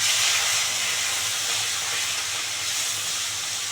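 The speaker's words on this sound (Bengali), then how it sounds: "তেল গরম হয়ে গেছে, এবার মাছগুলো দিয়ে দিচ্ছি" Saytic fish pieces frying in hot oil in a pan, a steady close broadband sizzle and hiss that holds evenly for the whole stretch with no talking.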